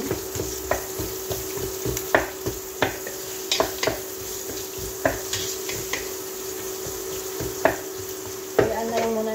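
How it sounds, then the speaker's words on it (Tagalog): Onions frying in a pan for biryani: a steady, close sizzle, broken by regular scraping and stirring knocks, with a sharper clatter near the end. "Kayaan na lang muna natin siya hanggang maging golden brown yung onion"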